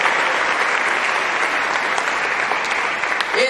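A church congregation at a Holy Hour service gives a dense, steady round of applause at close range that keeps going without pause and ends as a voice begins.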